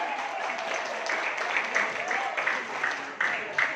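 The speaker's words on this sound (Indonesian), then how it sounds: "Berikan aplaus untuk kita semua." A seated audience at a business marketing plan presentation breaks into sustained applause, dense, even clapping filling the room at moderate loudness for several seconds.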